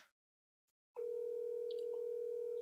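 An unanswered phone call rings as a steady single tone that starts abruptly after a brief silence and holds at an even level.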